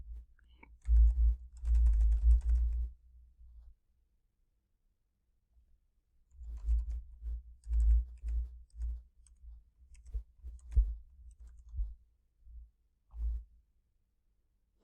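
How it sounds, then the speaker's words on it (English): Computer keyboard keys clatter in quick bursts as account details are entered for a FortiGate license registration, with a run of rapid typing, a pause, then several more stretches of clicking, close and without speech. "I will key in my account details"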